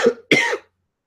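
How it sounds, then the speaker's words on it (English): Two quick, close coughs from one person, a short rough burst followed by a fuller second one, then silence. "So pardon me about the cough, guys."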